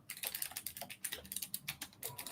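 Typing on a clicky Keychron mechanical keyboard: a quick, uneven run of crisp key clicks close by, with no voices.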